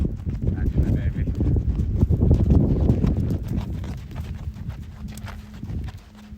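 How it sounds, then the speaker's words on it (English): Horse hooves clip-clop in a quick, uneven rhythm on the ground as the horse is being caught, fairly close and loud, with people's voices in the background. "They're going to go catch the horse."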